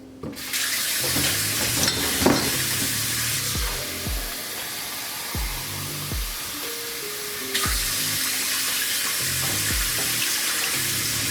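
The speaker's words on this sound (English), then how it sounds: "we're going to fill it up with water, just covering halfway of our pie" Water poured from a tap into a baking pan holding a Mexican cheesecake for a water bath, a steady loud rushing splash with a shifting gurgle throughout.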